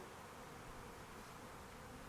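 Honey bees buzz angrily around a traditional log hive in Spain, a faint, steady, unbroken hum with no other sounds.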